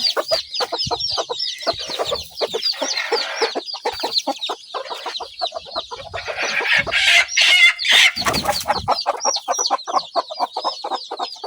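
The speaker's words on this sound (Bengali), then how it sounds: "এক পুষের মধ্যে দুই মুরগি উঠতে বসে আছে" Hens on a poultry farm cluck rapidly and repeatedly up close, with a brief louder burst of squawking partway through, then the steady clucking resumes.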